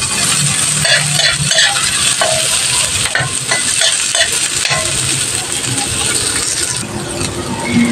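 Ginger sautéed in a pan for coconut-milk sardine stew, a loud, dense sizzle with busy stirring and scraping throughout.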